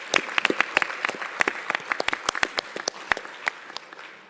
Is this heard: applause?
yes